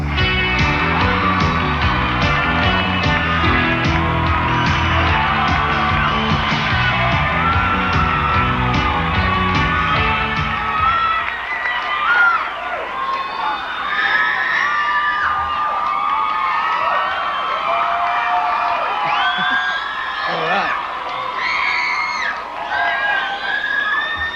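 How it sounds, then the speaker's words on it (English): An awards-show audience at the 1993 Billboard Music Awards screams and cheers loudly and continuously, with high shrieks and whoops from a large crowd and music fading out early on. "Thank God there's still screaming girls."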